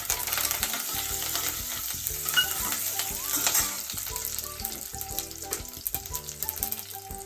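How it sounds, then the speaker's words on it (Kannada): Curry leaves and dried red chillies hit hot oil for tempering, sizzling steadily with a dense, crackling fry and the scrape of stirring, close and continuous with no talking. "ಕರಿಬೇವು ಒಣಮೆಣಸಿನ್ಕಾಯಿ ಒಗ್ಗರಣೆಗೆ ಹಾಕ್ತಾ ಇದ್ದೀನಿ."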